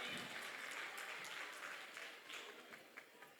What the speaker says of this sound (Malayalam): കുട്ടക്കുറുമ്പന്മാർക്കൊരു നല്ല കൈയടി കൊടുത്തേ